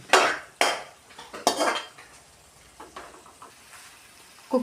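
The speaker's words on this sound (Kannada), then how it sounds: "ಕುಕ್ಕರಲ್ಲಿ ಬೇಯಿಸಿದ್ದು ಅಲಸಂಡೆ ಮತ್ತು ಆಲೂಗಡ್ಡೆ ಇದನ್ನು ಮಿಕ್ಸ್ ಮಾಡ್ತಿದ್ದೇನೆ" A spoon scrapes and clanks around a pot while stirring pressure-cooked field beans (alasande) and potatoes, giving a few sharp metallic knocks at the start followed by softer intermittent scraping.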